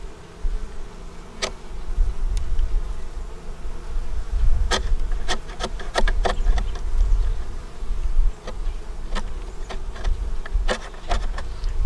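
Honeybees buzz steadily around an open hive during a beekeeping inspection in South Carolina, a close, continuous drone with individual bees zipping loudly past at intervals.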